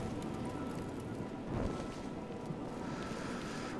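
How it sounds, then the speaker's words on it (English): Steady rain falls outside a crowded inn during a night storm in a fantasy role-playing video game, a constant broadband hiss that holds evenly throughout with no talk over it. "listening to the rain outside"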